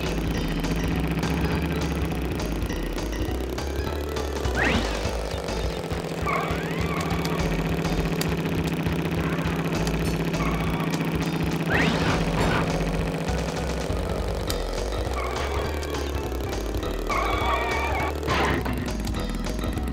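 A motorcycle engine in Crash Bandicoot 3: Warped hums continuously while riding, with several sharp revving swells rising over the steady drone.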